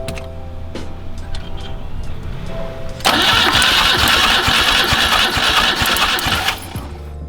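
A BMW 2002 engine fitted with a Weber 32/36 carburetor cranks loudly and steadily for several seconds during a compression test, the starter churn starting abruptly and cutting off near the end, with no talk over it.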